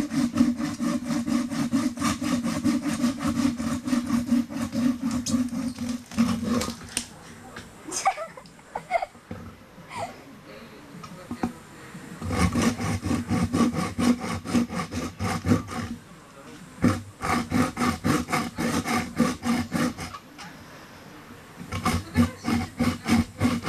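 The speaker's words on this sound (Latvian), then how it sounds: "Tā mēs nozāģēsim tikai zaru." Hand saw cutting through an old, dead oak branch on a tree, with steady rhythmic back-and-forth strokes in several bursts separated by short pauses, loud and close.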